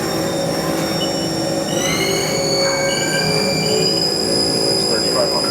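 A 2007 Haas TM-1 CNC toolroom mill spindle spins at 2,500 RPM, giving a steady close whine with high tonal lines that shift in pitch, over a constant mechanical hum.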